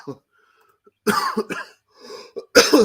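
A few sharp coughs and throat-clearing bursts, close and loud, separated by brief pauses with a faint murmur in between.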